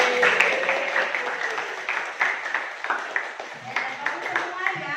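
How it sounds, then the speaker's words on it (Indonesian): A classroom of students claps after a presentation, with scattered, uneven hand claps at moderate volume mixed with voices chattering throughout. "Tepuk tangan untuk kalian semua."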